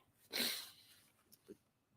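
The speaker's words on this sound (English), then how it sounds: "I think I'm going to sneeze" A single close, sharp sneeze bursts out from a person, then fades into quiet with a faint short sniff or breath moments later.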